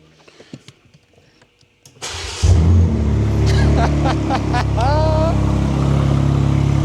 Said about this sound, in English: Would you listen to that beauty? Oh yeah, that engine's good, isn't it? Runs perfectly.